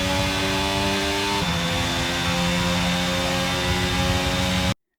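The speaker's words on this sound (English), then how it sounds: "That is the lovely sound of the Red Bull powertrain" Red Bull powertrain F1 car engine in the F1 2022 video game, a loud steady high-pitched whine with a sharp pitch shift early on, running continuously for about five seconds before cutting off abruptly.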